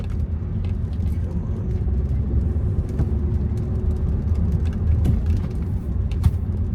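A car creeping through slow stop-and-go traffic, a steady low engine and road rumble heard from inside, with faint clicks and a soft distant voice now and then.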